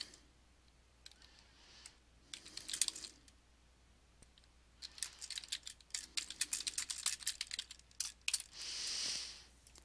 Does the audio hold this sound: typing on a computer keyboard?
yes